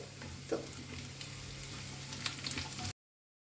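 Onion added to garlic frying in a pan for white sauce cheese pasta gives a soft, continuous sizzle with a few faint stirring taps, fairly quiet and unbroken until it cuts off abruptly.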